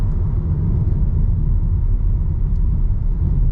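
A 2022 Volkswagen Taos S on a road test, heard from inside the cabin as a steady, loud low rumble of road and engine noise with no change through the corner.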